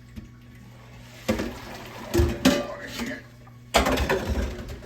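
Cooked pasta is drained from a pot, heard as a few bursts of splashing, sloshing water and clanking pot handling between quieter stretches, up close.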